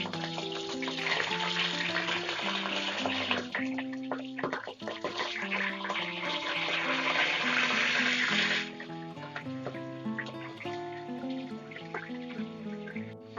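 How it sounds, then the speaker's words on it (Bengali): Chicken pieces fry in oil in a wide pan for restaurant-style chicken roast, giving a loud, steady crackling sizzle throughout that eases somewhat partway, with background music and no talking. "আমি এটা খুব সুন্দর করে ভেজে নিচ্ছি।"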